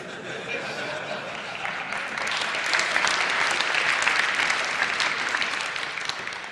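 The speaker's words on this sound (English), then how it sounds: "Two clapping, yes." An audience at a conference talk breaks into steady clapping that builds to a fuller, sustained applause midway and then eases slightly, with a chuckle or two mixed in.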